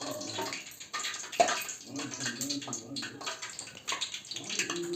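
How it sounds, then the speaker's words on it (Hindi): Sweet kachori spattering as it fries in a hot kadhai of oil, a dense continuous sizzle broken by sharp crackles and pops, loud and close throughout. "दोस्तों इसमें पानी हल्का पड़ चुका है, इसीलिए ये छिटक रहा है।"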